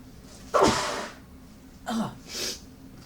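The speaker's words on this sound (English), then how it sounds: "Excuse me, I'm going to sneeze." A loud, close sneeze bursts out, followed by a second, shorter sneeze and a breathy exhale afterward.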